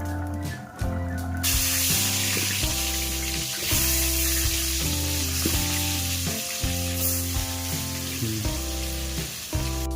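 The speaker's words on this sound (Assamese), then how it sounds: "ভাজা দেখি হাঁহৰ মাংস পূৰা উতলি আছে ভক ভকাই" Duck meat sizzles and fries vigorously in a pan over a full flame, a loud, continuous crackle and hiss that runs steadily throughout, with a tonal hum of other sounds layered beneath.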